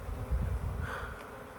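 Honeybees hum steadily around an open hive being set up, a soft, continuous close buzz with no talking.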